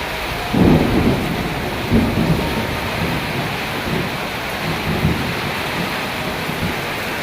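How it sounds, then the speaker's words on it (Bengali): Heavy rain pours down steadily in a thunderstorm with strong wind in Pirujali Union, Gazipur, Bangladesh, while a couple of nearby thunder booms roll out, the loudest early on, over the constant hiss of rainfall. "আকাশে বজ্রপাত শুরু হয়েছে"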